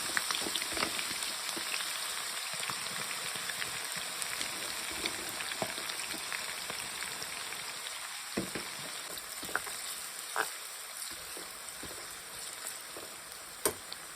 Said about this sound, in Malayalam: ചിക്കൻ പൊരിക്കാനുള്ള എണ്ണയിൽ നമുക്ക് ബിരിയാണിക്ക് വേണ്ട ഉള്ളി വറുത്ത് പോരാം